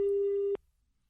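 A phone call cuts off into a loud, steady busy tone that holds for about half a second and then stops abruptly, leaving near silence.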